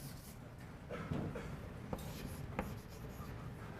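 Chalk or marker scratching across a board during a university calculus lecture, a faint series of short strokes and taps close by, with no talk over it.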